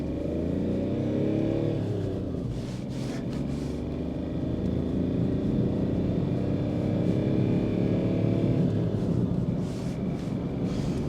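An Audi A2 accelerates hard from a standstill through the gears, its small engine droning and rising in pitch with each gear, pausing at slow shifts before climbing again, steady and close inside the cabin.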